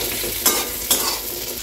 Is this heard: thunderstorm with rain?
no